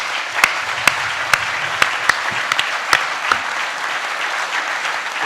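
Audience clapping at a prefecture candidates' debate in Témiscamingue, a steady moderate applause from a small crowd with a few sharper individual claps standing out, continuous throughout.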